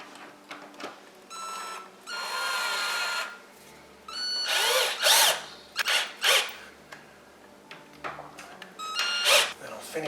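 Power drill driving screws into a new stairway handrail, with several short whirring bursts of the motor spinning up and stopping, close and loud, separated by quiet pauses and a voice talking between them.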